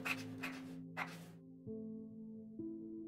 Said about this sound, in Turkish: Hatta dur şu kalemle yazayım.